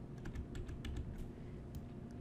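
Computer keyboard keys are pressed in quick, steady succession while working in Tinkercad, a close, continuous patter of clicks with no talking.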